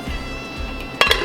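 A lid set onto a pot of simmering vegan gumbo, a single sharp metallic clink near the end over faint kitchen background.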